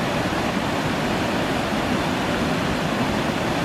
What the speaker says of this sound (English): we're up here on a boardwalk here at McHugh Creek with the creek running directly below us